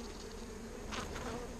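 Honey bees buzzing around an open hive during a beekeeping inspection in Texas, a steady low drone of many wings with a slightly louder swell of close passes near the end.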